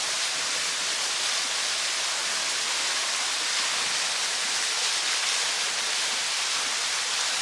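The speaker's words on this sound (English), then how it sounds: "I need to add a decent bit of water to it." Water pours steadily into a pot of lamb stew at a wild campsite, a continuous close splashing rush that holds an even level throughout with no talk over it.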